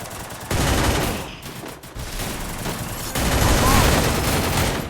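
Gunfire in the mobile battle game Free Fire, with dense, sustained bursts that continue through the whole stretch and grow heavier near the end, heard over game noise.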